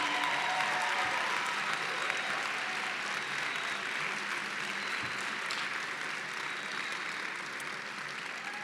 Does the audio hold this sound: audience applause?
yes